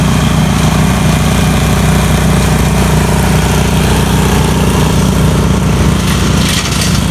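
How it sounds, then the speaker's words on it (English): A wood chipper runs loud and steady, close by, chipping lilac branches with a constant engine drone and a low rumbling vibration, with no talk. "There it is, working in the chipper."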